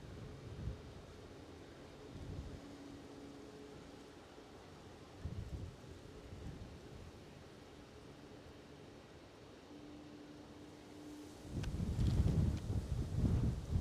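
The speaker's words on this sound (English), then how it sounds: "As you can hear on mic," Wind buffets a microphone outdoors at Edinburgh Airport, with low rumbling gusts coming in irregular bursts and growing loudest and roughest near the end.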